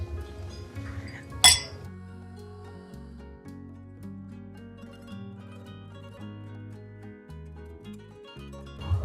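Glasses clink once in a toast at a meal for two, a single bright ring over soft background music.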